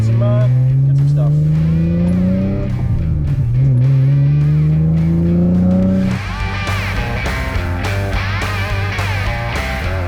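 A car engine revs and drones loudly through rising and falling gear pulls while being driven on a daily drive, its pitch climbing then dropping, followed by a rougher, noisier stretch of road and engine sound.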